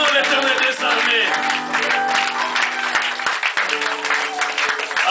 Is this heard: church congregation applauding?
yes